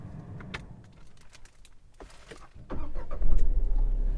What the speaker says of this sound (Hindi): Now let me switch on the car.